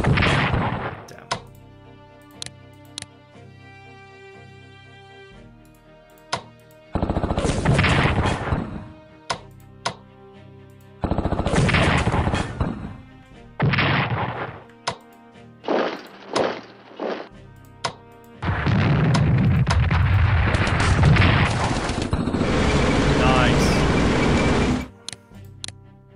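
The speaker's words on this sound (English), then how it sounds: "Those anti-tank guns, man." Anti-tank guns firing in the strategy video game Strategic Command, heard as repeated loud bursts of gunfire and heavy thuds in irregular clusters, some long sustained volleys, over a steady background tone with no talking.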